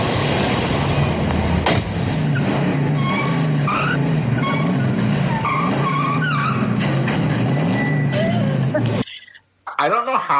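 A car skids hard in a driving scene from Rocky II, tires squealing loudly and continuously under a roaring engine, then cutting off abruptly near the end.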